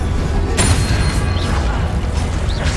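Arresto and Expelliarmus spells cast in the Hogwarts Legacy video game: a sharp, loud magical crack then swirling whooshes, all over a dense, constant wash of game noise.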